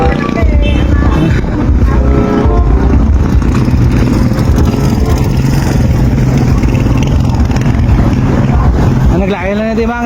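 Pink motorized tricycles pass along a street, engines rattling and buzzing loudly and continuously with clattering and traffic noise, while a voice talks over them.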